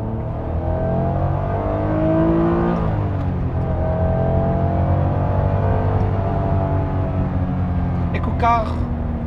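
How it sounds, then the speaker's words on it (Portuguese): A yellow Honda NSX with a VTEC V6 and five-speed gearbox drives along, its engine holding a steady drone with shifts in pitch as it revs and eases, while someone talks over it. "O carro não é assustador, é só um carro que faz um som e que nos remete aqui para os anos 90"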